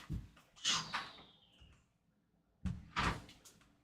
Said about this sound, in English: Oh, I forgot to close my door.